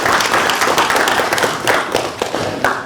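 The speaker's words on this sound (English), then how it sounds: "So I'd like to give them a round of applause for their service." Applause from a crowd at a county commission meeting in Jackson-Madison County, Tennessee, dense steady clapping for about three seconds with a few sharper individual claps standing out, fairly close and loud.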